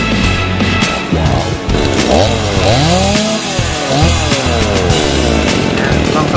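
A loud, close Stihl MS180 chainsaw engine roars and revs up and down repeatedly, its pitch sweeping between throttle bursts.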